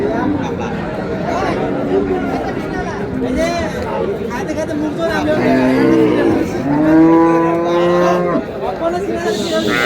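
Cows with calves at Raniganj cattle market in Dinajpur low and moo repeatedly, the calls rising and falling, with several long moos near the end, over constant chatter and bargaining voices of the crowd.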